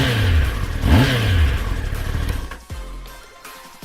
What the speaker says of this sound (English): The engine's gone more silent now thanks to the new emissions.